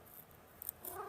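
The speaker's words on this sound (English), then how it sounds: "Talking cat that talks back" A talking cat makes short vocal sounds up close, a few brief calls clustered near the end of a quiet second.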